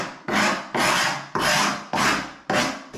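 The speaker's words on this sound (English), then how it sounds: "First of all, we're going to take this fuzzy edge off from the router." A blade or square scraping the router-cut fuzzy edge off a kitchen worktop, five loud rasping strokes in a steady rhythm, each starting sharply and fading, close up with no talk.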